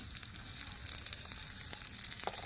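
Chopped onion sizzles in hot oil in a tiny miniature-kitchen pan, a steady close crackle and hiss with small pops scattered throughout and no voices.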